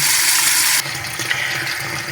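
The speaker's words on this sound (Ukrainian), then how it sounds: "виймаємо з води наші рулети і обов'язково занурюємо в ємність холодною водою" Cooked meat rolls wrapped in bags or cling film go into a container of cold water. A loud rushing gush of water is heard at first, then softer sloshing and splashing, with no talk.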